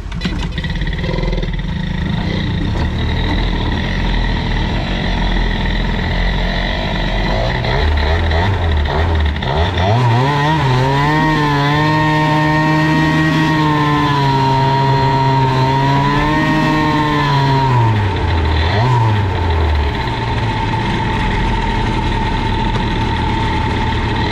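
A freshly rebuilt Doppler BOOST engine revs hard past 12,000 rpm, its loud buzzing tone rising, holding high, then dipping and climbing again over a steady idle, with no talking.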